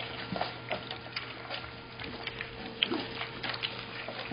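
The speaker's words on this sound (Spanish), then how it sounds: "Acá están los cachorritos." Rescue puppies whimper and lap softly while eating a mash of corn cream, egg and puppy biscuits, with faint whines and small wet mouth sounds scattered over a quiet room hum.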